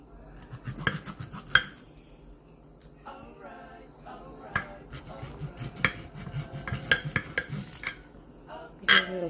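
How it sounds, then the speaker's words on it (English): Quick little knife slices into a partly frozen salmon fillet being prepared for an air fryer, heard as close, irregular tapping and scraping clicks against a board with faint kitchen clatter in between. "at the bottom of the salmon, I'm gonna just do quick little slices"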